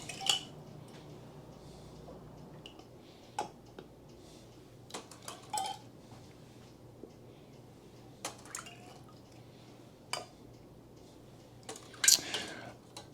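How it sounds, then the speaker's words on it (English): Metal lids placed onto glass canning jars for cold-packed chicken, with several sharp clinks and taps at irregular intervals over quiet kitchen background. "Get our lids on there."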